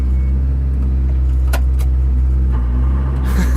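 A Ford Fiesta R5 rally car on a Lake District stage, a loud, steady low engine drone held throughout with a few sharp clicks and rattles on top, close to the microphone.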